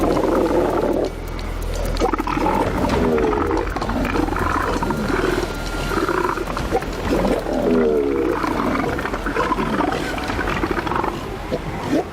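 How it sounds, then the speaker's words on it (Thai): An adult male wild animal in a territorial contest roars to intimidate a rival: deep, loud, rumbling roars repeat in heavy waves over a continuous low growl. "มันจะส่งเสียงคำรามน่ากลัวออกมา เป็นการข่มขวัญฝั่งตรงข้าม"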